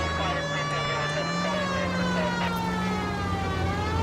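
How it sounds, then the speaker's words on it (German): A police car siren in the video game L.A. Noire wails continuously with a steady rising and falling tone, loud and close, over a low engine rumble. "Ja, leider muss ich die Sirene machen."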